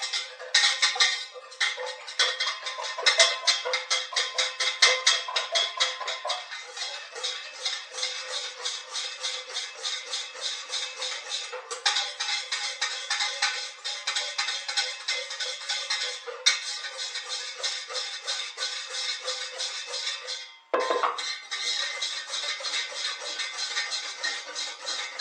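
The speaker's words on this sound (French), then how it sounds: "Et on vient fouetter" Rapid, even clicking and scraping of a whisk beating brioche dough ingredients in a bowl, a busy metallic rhythm that runs nearly nonstop, with one brief pause near the end before the whisking resumes.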